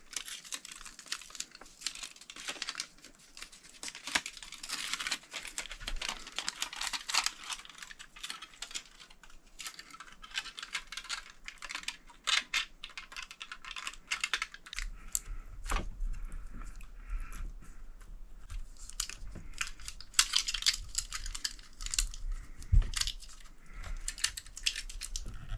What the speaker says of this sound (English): careful when you peel it off here because it's super thin and it will roll up on itself too